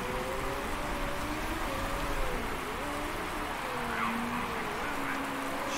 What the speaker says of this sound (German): Und kommen jetzt zum Höhepunkt des Regens.